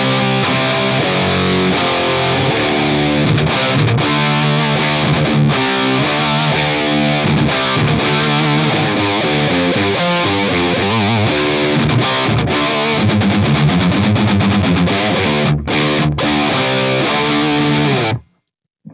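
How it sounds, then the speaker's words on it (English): Electric guitar on its bridge humbucker through a modded Marshall JCM 800 profile, a Balaguer Espada offset: continuous loud, heavily distorted rock playing with dense chords and riffs, alone, ending abruptly. "So here is the bridge humbucker."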